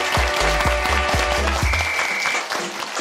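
A studio audience on a Korean job-themed talk show applauds a guest, a dense burst of clapping with cheers and low rhythmic thumps beneath it.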